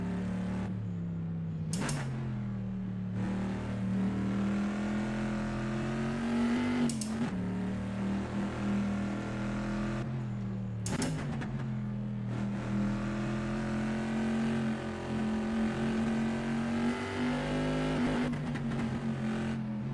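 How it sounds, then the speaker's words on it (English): A WSC Legends race car slides around Riverside in Assetto Corsa, its engine roaring steadily up and down through gear shifts, with sharp popping bursts between pulls; loud and continuous, without talk. "Oh, I love the sound this car makes. The popping."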